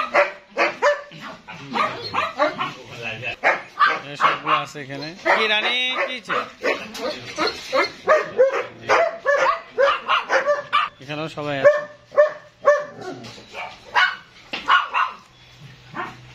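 At a dog farm, several dogs bark and yip in short bursts, mixed in with people talking close by.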